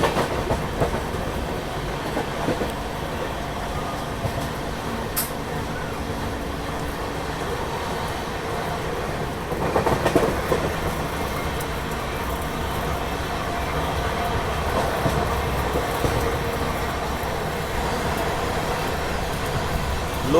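A Lok Shakti Express overtakes on the rails, heard as a steady, loud rumble of rolling train noise with a swell of rushing wheels and wagons around the middle, continuing without any talk.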